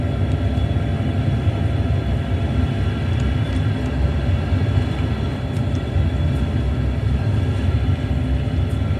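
Continuous loud, low rumble of a train engine and rolling wheels as a train departs in Train Sim World 2, steady and unbroken throughout, with faint clicks above.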